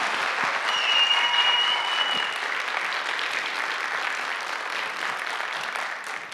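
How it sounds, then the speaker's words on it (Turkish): Sustained applause from an audience at a high school speaking event, a dense steady wash of many hands clapping that fills the whole stretch, with a faint tone running through the first couple of seconds. "Kuvvetli alkışlarınızla Ayşe Mine Atçeken"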